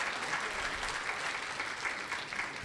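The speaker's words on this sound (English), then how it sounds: "Give them a clap for their presentations." An audience at a health department staff forum claps for its presenters, a dense, steady round of applause from a roomful of people lasting a few seconds without break.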